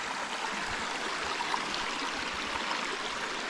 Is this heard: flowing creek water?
yes